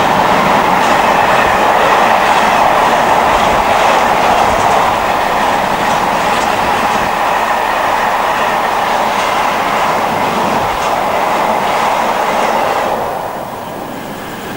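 A Class 66 diesel locomotive hauling a freight train of empty car-carrying wagons rolls past close by, loud rumbling with clattering wheels, fading slightly at the very end.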